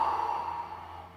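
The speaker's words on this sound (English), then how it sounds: "breathing out." A slow breath out during a Pilates exercise on a mat, a soft sighing exhale that fades over about a second, close and quiet with no talking.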